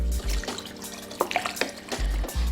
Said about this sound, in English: Now I'm gonna go ahead and add my water.